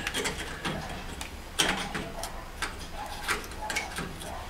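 A K40 laser cutter at work on leftover material gives a steady mechanical hum with irregular ticks and short whirring moves from the moving head, close by at a moderate level; no talking.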